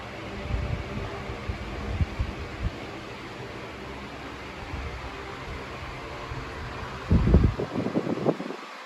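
A Sunpentown 16-inch wall fan runs with a soft steady airy whoosh while oscillating side to side, with light handling bumps and a louder rustle near the end.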